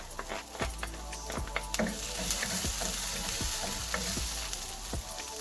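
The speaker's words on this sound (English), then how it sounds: "Now add your onions and your Anaheim chilies. And we're going to saute them until they get soft." Onions and Anaheim chilies sauté in a hot pan for shakshuka, making a loud, close, continuous sizzle broken by sharp scrapes and taps of a utensil stirring the vegetables.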